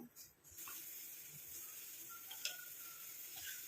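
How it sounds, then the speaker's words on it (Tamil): A steady, quiet sizzling hiss of a mixture bubbling and boiling in an iron pan on a stove, with faint scattered pops and ticks throughout. "இப்போ பாருங்கள் நல்லா கொதிக்க ஆரம்பிக்குது."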